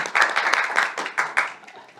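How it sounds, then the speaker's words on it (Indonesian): A small studio audience claps briefly for a bodybuilding athlete, a short run of close hand claps in uneven bursts that taper off. "Tepuk tangan dong."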